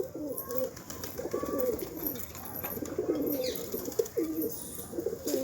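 Pigeons cooing close by in repeated low, throaty rolling phrases, steady and continuous, with faint chirps in the background and no speech.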